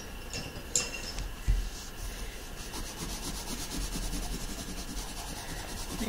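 A crayon or pencil rubs across paper while shading in sand, giving soft, faint, scratchy strokes with a couple of small taps near the start.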